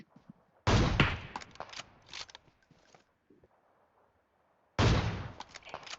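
Sharp bursts of PUBG Mobile gunfire come in two loud volleys, each a rapid string of close shots with brief gaps between them, and quieter clatter in between.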